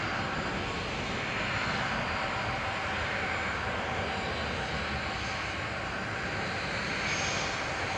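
A Boeing 757 departing Manchester Airport, its engines giving a sustained loud roar with a tinny, whistling edge, steady and continuous across the whole stretch.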